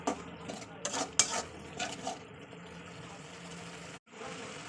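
Meat being fried down with stock in a pan during home Bengali cooking, with a utensil stirring and scraping in irregular clinks and scrapes over a low, steady sizzle; no one speaks.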